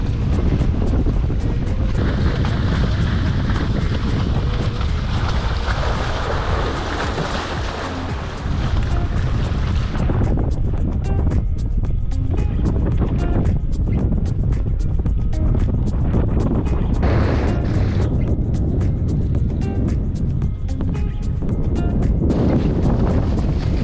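Strong wind gusts sweep over a sailing boat at sea near the Ninigo Islands, Papua New Guinea. The loud, continuous rushing of wind and water surges and eases in waves throughout.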